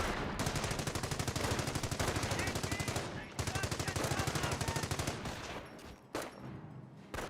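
Sustained automatic gunfire in the World War II strategy game Company of Heroes, a loud, rapid, steady stream of machine-gun bursts broken by brief pauses, ending in scattered shots.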